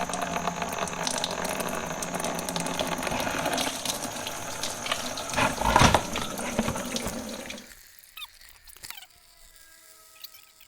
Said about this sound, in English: let's drain the coolant. To open up the stopcock.